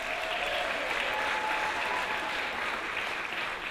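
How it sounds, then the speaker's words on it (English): Audience applause at a wearable arts show, a steady, dense clapping that fills the whole stretch at an even level with no voices on top. "Please give them a round of applause."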